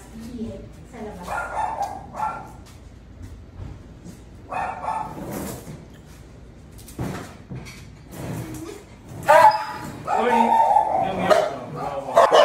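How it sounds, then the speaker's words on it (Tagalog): A dog being handled for a trip to the vet whimpers and cries in short, high-pitched whines that grow more insistent toward the end, mixed with shuffling movement and people talking nearby. "Kapag ganong umiyak na yung aso"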